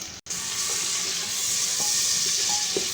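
Two medium onions sizzle in hot oil in a pressure cooker, a steady, close frying hiss with small crackles and pops throughout.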